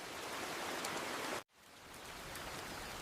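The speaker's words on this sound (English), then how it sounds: "The rain makes everything smell so fresh." Gentle rain falling steadily on a countryside home, a soft continuous hiss with a brief dropout midway before the patter resumes.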